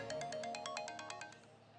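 A phone rings with an incoming call in an Egyptian drama scene, giving a faint, quick run of rhythmic electronic ringtone pulses with no talk over it.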